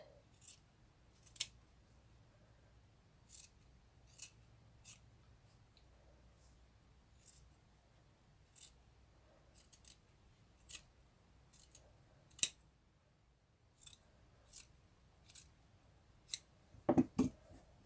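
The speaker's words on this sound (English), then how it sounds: "I'm just going to trim those edges off with my scissors." Scissors snip in short, crisp cuts, scattered irregularly through a quiet room, each a sharp close click with pauses between, ending in a brief rustle.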